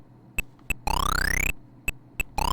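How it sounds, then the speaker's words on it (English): ZX Spectrum computer emitting loud electronic beeps while loading a game: short tone blips alternating with longer rising sweeping tones in a repeating pattern, with no talk. "While the beeping happens."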